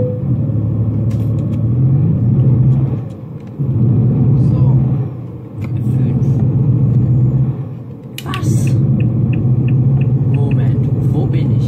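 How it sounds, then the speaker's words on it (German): A tow truck's engine rumbles steadily as it drives in Euro Truck Simulator, loud and continuous with brief dips in revs. Someone talks over it now and then. "Ich fahre jetzt wieder mit dem Abschlepper zurück."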